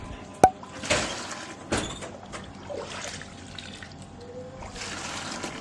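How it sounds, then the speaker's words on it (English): Thin liquid pap batter pours and trickles into a sieve cloth during homemade baby pap preparation. Soft splashing and dribbling come in short bursts, with a few sharp knocks and clatters between them. "we're going to be pouring the second batch into the second sieve cloth."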